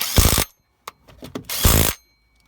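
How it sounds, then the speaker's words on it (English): Crankshaft pulley bolts being tightened on a Vauxhall Corsa C 1.2 twin port engine, heard as two loud, sustained bursts of a power tool separated by a few short metallic clicks and taps, close by. "Just going to tighten them in a crisscross."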